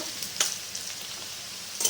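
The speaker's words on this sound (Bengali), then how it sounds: "পেঁয়াজটা একটু লাল করে ভেজে নেব।" Chopped onion sizzles steadily in hot oil in a pan as it is fried until reddish for a prawn and mixed-vegetable ghonto, with a few sharp scraping stirs of the spatula standing out clearly over the constant hiss.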